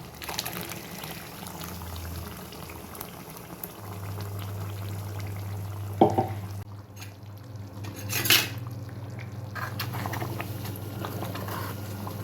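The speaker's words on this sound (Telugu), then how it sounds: "మెల్లగా కలుపుకోండి, ముక్కలు విరిగిపోకుండా ఉంటాయి." Brinjal curry simmers and bubbles in a pot as a spoon stirs it gently, giving soft scraping and a few sharp metallic clinks against the pan over the steady low bubbling.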